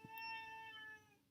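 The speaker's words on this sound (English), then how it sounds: "Pardon my cat." A cat lets out a single short meow, faint and somewhat distant, in a quiet room with no talk.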